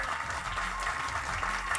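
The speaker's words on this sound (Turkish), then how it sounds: "Ve güçlü bir alkışla başlıyoruz efendim." Applause from an audience at a media event held aboard a cruise ship, a steady dense wash of clapping throughout at constant moderate loudness.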